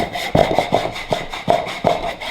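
A small survival saw hand-cutting through a piece of wood in several short, rough strokes, each a brief rasping scrape with gaps between, close and moderately loud with no talking.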